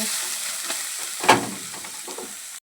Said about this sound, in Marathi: आता आपण ह्यात किसलेले गाजर टाकू.